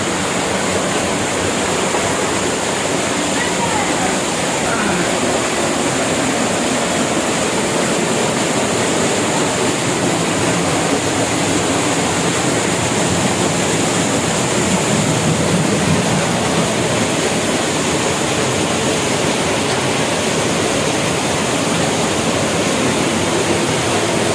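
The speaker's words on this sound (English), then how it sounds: "There is a waterfall just in front of us." A waterfall inside a cave roars steadily with a dense, constant rush of falling water, loud and close, with no pauses or voices.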